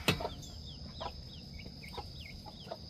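American Buckeye chickens cluck softly in a farmyard, with a scatter of short, faint calls over a low background hum and no voices.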